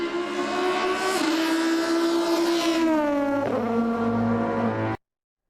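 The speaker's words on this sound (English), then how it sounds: "Is that a 5-cylinder? Don't Volvos use those?" A Volvo five-cylinder engine in a 1990s BTCC race car revs hard and loud, its harmonic drone climbing and dipping through gear changes before cutting off abruptly.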